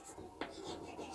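Soft scratching of writing on a board during a physics lesson, quiet and brief, with one sharper stroke partway through, set in faint room noise.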